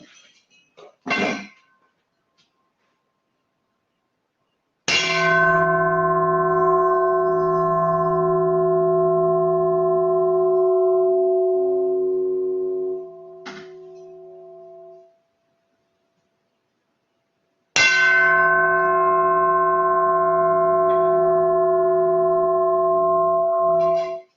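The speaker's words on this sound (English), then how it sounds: "first I'll start out with my homemade bell" A single struck metallic bell rings out with a long, sustained resonant tone that slowly fades, followed later by a second strike ringing on; a faint tap precedes them.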